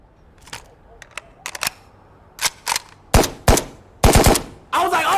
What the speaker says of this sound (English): we woke up to gunfire